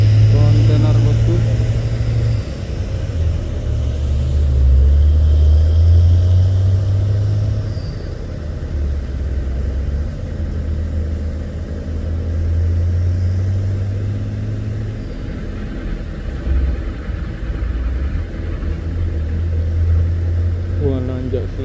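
A heavily loaded container truck trailer grinds slowly uphill, its deep low engine rumble rising and falling while people talk over it.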